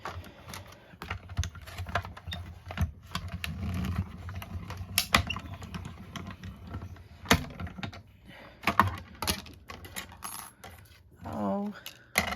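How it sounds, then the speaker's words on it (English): A die-cutting machine cuts a paper tag from a scrap of Designer Series paper, making irregular clicks, clunks and clattering knocks across about twelve seconds, close and fairly sharp, with no talk. "I'm going to go ahead and die cut out my tag using a scrap of"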